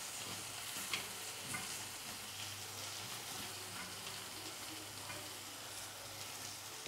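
Plantain for podimas being stirred in a pan over low heat, a soft continuous sizzle with faint scraping movements, quiet and steady throughout with no voices.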